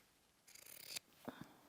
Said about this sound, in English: I'm probably going to cut this bit off here